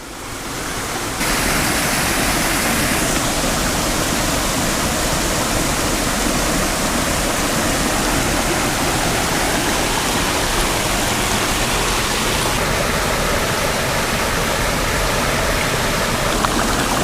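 Steady, loud roar of a rain-swollen mountain stream rushing in Switzerland, a dense unbroken wash of water noise close by with no voices.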